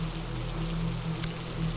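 Steady rain falling in an animated horror story, a continuous even patter at moderate level with a low background hum and one small sharp tick partway through.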